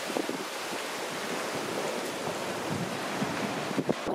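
Sea waves wash steadily onto a Turkish coast on a sunny morning, a continuous loud surf roar mixed with wind buffeting the microphone and no talk.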